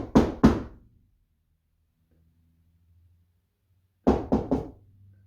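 Loud knocks on a ceiling in a quiet room, a tight double rap, then near silence for about three seconds, then a burst of three quick knocks, with no talk.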